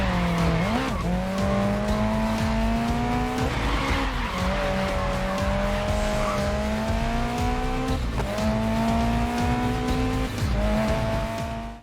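A car in the Mafia video game slides through a corner under handbrake, its tires squealing in long, sustained pitched wails over a steady engine drone. The skid bends in pitch and repeats several times over nearly twelve seconds, loud and close.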